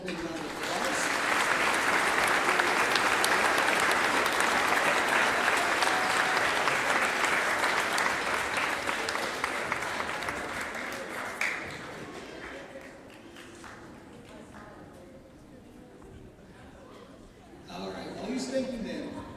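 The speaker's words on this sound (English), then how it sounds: "let's give them all one more big round of applause" Big round of applause from a high school graduation and middle school promotion audience, loud and sustained for about ten seconds before fading into quieter murmuring and scattered noise, with a brief renewed burst near the end.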